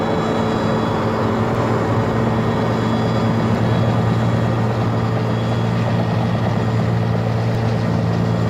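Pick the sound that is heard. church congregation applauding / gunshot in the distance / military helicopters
military helicopters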